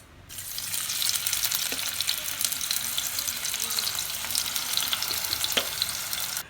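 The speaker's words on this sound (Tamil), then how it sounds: "எண்ணெய் ஊற்றிட்டு இது மேரினேட் ஆனதை இந்த எண்ணெயில் போட்டு இப்போ ஃப்ரை பண்ண போகிறோம்" Marinated balsam apple pieces drop into a generous amount of hot oil, setting off a loud, steady, close-up crackling sizzle that rises after a brief quiet start and keeps going with occasional sharper pops.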